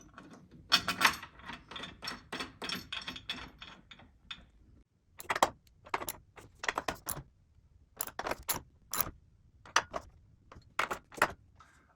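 Lag bolts being driven to attach legs on a Mandalorian Premium pinball machine, a series of close ratcheting and metallic clicks in short irregular bursts with brief pauses between.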